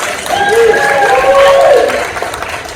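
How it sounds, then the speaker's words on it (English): Theater audience at a community summer camp show claps loudly, with a voice or two calling out in sustained tones above the applause before it fades toward the end. "Can we get a round of applause?"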